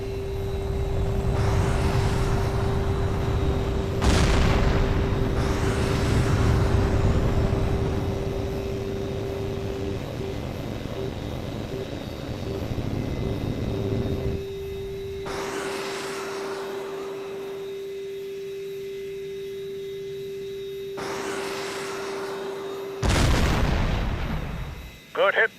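Jet aircraft and heat-seeking missile fire with explosions in the video game H.A.W.X 2: a steady loud engine roar with a constant tone, broken by several sharp bursts and blasts.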